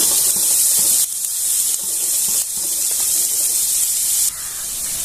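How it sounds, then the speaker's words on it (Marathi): Chopped onion sautés in a pan with mustard and sesame seeds, giving a loud, steady hissing sizzle that shifts in intensity as it is stirred. "कांदा घालून घ्यायचा कांदा छान असं परतून घ्यायचा"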